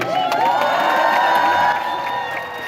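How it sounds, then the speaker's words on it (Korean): A crowd cheers and whoops loudly for a couple at a wedding, shouts and excited voices rising together over lighter clapping, sustained and close. "박수 한번 크게 주시고"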